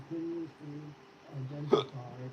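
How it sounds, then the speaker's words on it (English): A single sharp hiccup lands about two-thirds of the way through, a brief bright burst standing out over ongoing talk at a fairly close, moderate level. "Hiccups."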